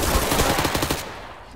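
Rapid automatic gunfire in Garry's Mod, a dense burst of close shots lasting about a second and then cutting off.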